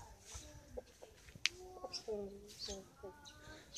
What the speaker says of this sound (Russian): На улице петух-то гуляет у нас